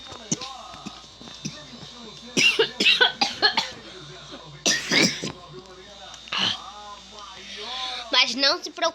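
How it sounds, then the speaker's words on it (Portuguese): Repeated coughing from a person in a house-building session, several harsh coughs in bursts mixed with a person talking. "tô tossindo toda hora"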